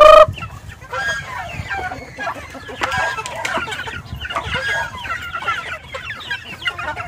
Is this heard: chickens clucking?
yes